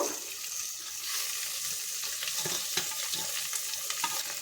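Beans, carrots and potatoes fry together in a pan for vegetable pulav, a steady close hiss with light stirring scrapes toward the end.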